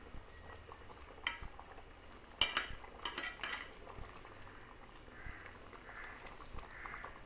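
Fish curry bubbles quietly in a pot while a spoon scrapes and clinks against the sides in a short cluster of stirring, low and close.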